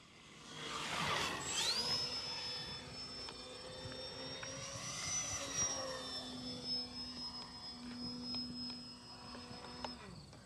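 An E-flite Valiant V2 1.3 m RC model airplane flies overhead, its electric motor whine rising and falling in pitch as it passes, steady and moderately loud against faint background hum.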